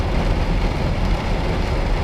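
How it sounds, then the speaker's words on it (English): Heavy rain pours steadily outdoors during wet-weather trash picking and scrap collecting, a dense, loud, unbroken hiss and patter filling the whole stretch with no voices. "It just started raining even harder."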